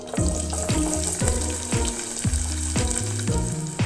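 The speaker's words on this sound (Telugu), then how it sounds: "ఆనియన్ కొంచెం లైట్గా ఫ్రై అవ్వచ్చు" Small onion pieces fry in hot oil in a pot, making a loud close sizzle with a quick run of rhythmic scraping or bubbling strokes, without talking.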